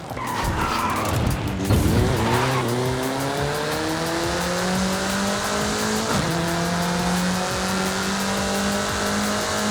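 Car racing hard in Forza Horizon 5 toward open countryside, engine droning loud and rising in pitch through the gears, with a burst of tyre squeal and skidding early on, steady and close with no talk.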